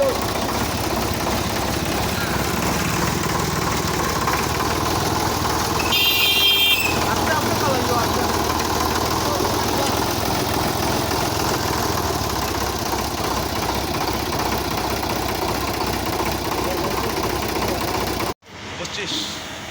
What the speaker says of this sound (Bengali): গাড়িটা এখন চলে যাচ্ছে